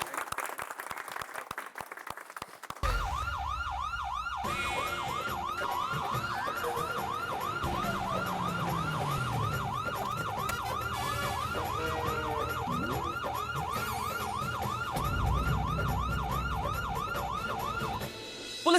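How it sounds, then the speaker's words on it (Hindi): A police siren wails in a steady rising and falling cycle, loud and continuous for most of the clip, over background music and crowd noise, with applause-like clatter at the start. "पुलिस का सायरन यानी कि टेंशन"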